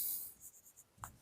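Pen or marker writing on a board during a Class 12 physics lesson on the hydrogen atom energy level diagram, a few soft scratchy strokes in a quiet room, ending with a slightly louder tap.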